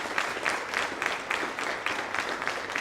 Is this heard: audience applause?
yes